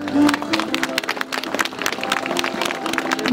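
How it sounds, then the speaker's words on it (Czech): A New Year's fireworks event crowd applauds, brisk scattered clapping from many hands building steadily for a few seconds, close and fairly loud with a voice briefly mixed in. "Jo, tak mu asi zatleskáme."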